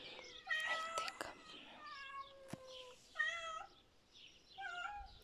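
Several cats, some of them orange, meow close by, high overlapping calls repeating over a few seconds, with faint voices in the background.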